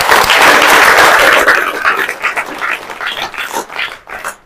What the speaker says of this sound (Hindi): ताली बजाओ सारे